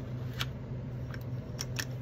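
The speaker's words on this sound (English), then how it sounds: "on one side, I'm going to trim one side off" Scissors trim the side off a cardboard box in a few quick, crisp snips close by over a low background hum.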